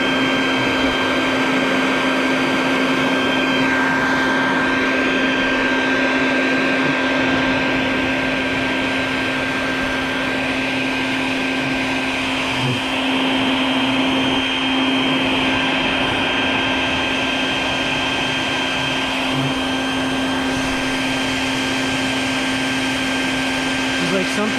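A vacuum cleaner drones steadily as it sucks hornets out of a nest by a front door, a loud constant hum with a strong tonal whine, while a voice talks over it.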